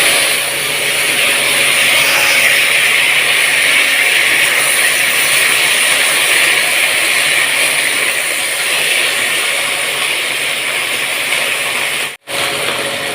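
Pre-cut flat beans (shim) hit hot oil with spices that have just burned, producing a loud, steady broadband sizzle and hiss that continues unbroken, close up and with no voices, before cutting out briefly near the end.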